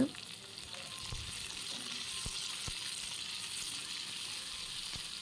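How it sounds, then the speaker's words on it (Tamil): Onions sautéing in a pan for hotel-style kara chutney, a steady close sizzle with occasional faint stirring taps throughout. "இப்போ வெங்காயம் சேர்த்துட்டு லைட்டாக வதக்கிக்கோங்க"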